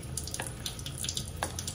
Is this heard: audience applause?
no